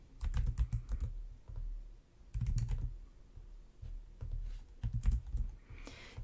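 Computer keyboard typing and mouse clicking while entering text into a cell of a spreadsheet-style layout in Canva, heard as close, steady bursts of keystrokes with brief pauses between runs.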